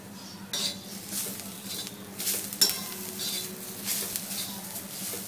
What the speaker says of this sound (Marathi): थोडीशी कोथिंबीर घालायची, तीही या सर्व साहित्यामध्ये परतवून घ्यायची आहे